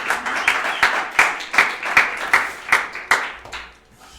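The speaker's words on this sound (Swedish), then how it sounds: "Varm applåd! Varm applåd." Warm applause at a Swedish coffee championship, heard as a series of distinct, fairly slow claps with a few hands joining, fading out near the end.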